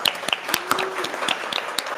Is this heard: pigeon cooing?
no